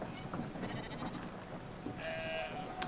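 Sheep bleating in a video game, a few soft bleats scattered over busy game sounds, with a steady high tone entering near the end.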